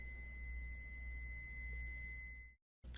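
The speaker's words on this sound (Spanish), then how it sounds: "Los pitidos pueden variar dependiendo del multímetro." A multimeter's continuity beeper sounds while measuring under 300 ohms: a steady, loud electronic tone held for about two and a half seconds, then cut off briefly before sounding again.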